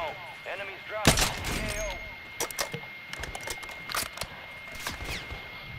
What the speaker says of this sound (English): Why would you start shooting at us?